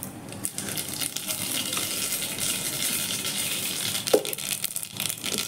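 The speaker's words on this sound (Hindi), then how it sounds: "तो पहले मैं इसमें सरसों डालूँगी" Mustard seeds dropped into hot oil in a pan, a dense continuous sizzle and crackle with a brief sharper pop near the end, close by.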